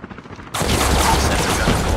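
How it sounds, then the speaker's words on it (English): Sustained rapid gunfire from a chopper gunner helicopter in Call of Duty Mobile domination mode bursts in loud and dense after a short quieter lead-in, continuing without pause. "Friendly deployed chopper gunner."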